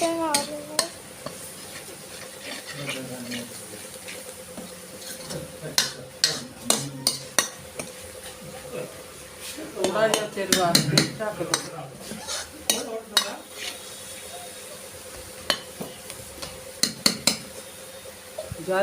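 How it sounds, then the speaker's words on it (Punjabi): Spices roasting in ghee in a pan for a Punjabi soybean-nugget curry, with repeated stirring scrapes and sharp spoon-on-pan clanks over a low, steady sizzle, close and fairly loud. "ਹੁਣ ਇਹਨਾਂ ਨੂੰ ਆਪਾਂ 10 ਮਿੰਟ ਵਾਸਤੇ ਭੁੰਨ ਲਾਂਗੇ"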